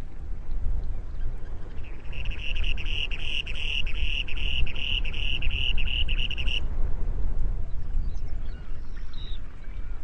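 A male spoon-billed sandpiper gives a territorial call: a clear, high, rapidly pulsed trill of about four and a half seconds, fairly close, over a steady low background rush.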